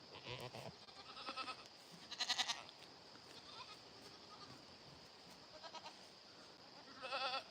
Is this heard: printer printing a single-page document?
no